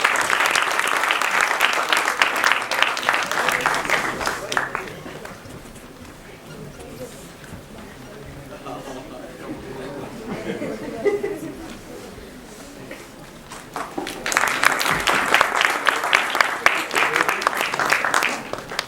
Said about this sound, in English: Give a big round of applause, guys.